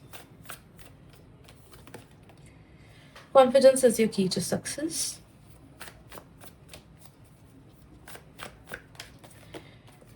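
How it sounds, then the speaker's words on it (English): A deck of playing cards is shuffled during a tarot-style angel card reading: a quick burst of riffling snaps, close and crisp, lasting about two seconds amid quiet background and occasional talk. "Let's shuffle some more cards."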